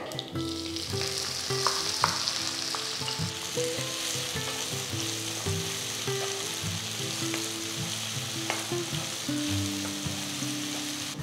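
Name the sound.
chopped onion frying in oil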